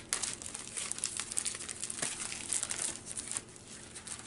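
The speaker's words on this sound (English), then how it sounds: "My trusty knife. Always cut away from yourself." A knife slitting open a mail-order package of comics, with close, continuous crinkling and tearing of plastic or paper over about four seconds and no talk.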